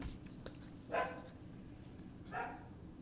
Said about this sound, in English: Wiener dogs, I tell ya.